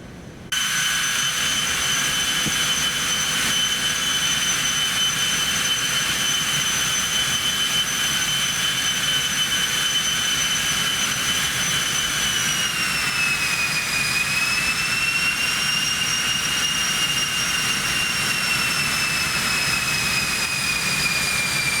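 In the X-Plane 12 flight simulator, a jet airliner's engines roar steadily on the runway with a constant high turbine whine whose pitch dips and shifts midway, loud and continuous throughout.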